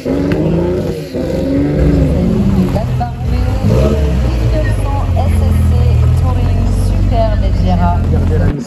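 A Mistral car pulls away after being push-started at a Chantilly concours d'elegance, its engine a loud, rumbling roar that builds steadily over crowd voices and chatter.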